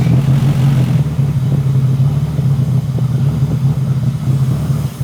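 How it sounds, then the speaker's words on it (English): A Honda Civic idling through a 3-inch Skunk2 Megapower catback exhaust with a custom downpipe and no flex pipe, a loud, steady, deep rumbling drone close up with slight throttle fluctuations. "This is a Skunk2 Megapower 3-inch catback with my own downpipe."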